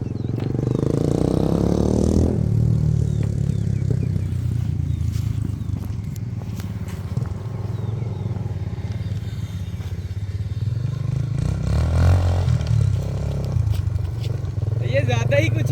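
A dirt bike engine starts and revs, then runs steadily as the bike rides off road, with clattering and brief voices mixed in.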